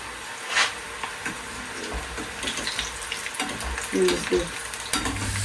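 Cabbage, carrot and capsicum sauté in a hot pan as the tempering for homemade Manchurian, with a steady sizzle and repeated scraping stirs of a spatula, close and moderately loud, with no talking.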